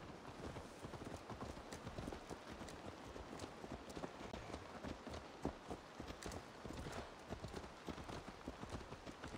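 Rapid hoofbeats of a galloping horse in Assassin's Creed Valhalla pound steadily over a constant background hiss, close and fairly loud, with no one speaking.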